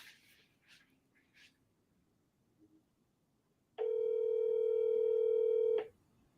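A single steady ringback tone from an unanswered phone call sounds for about two seconds, loud and clear after a quiet stretch with faint chirps, then cuts off.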